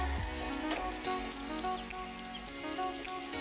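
Asparagus charring on a hot grill alongside beef and corn gives a steady, close sizzle with faint crackles and pops, with no talking.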